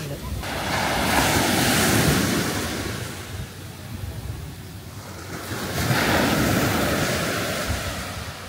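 Gentle ocean waves wash onto a fine-sand beach at El Nido, rising and falling in two broad surges with wind buffeting the microphone throughout.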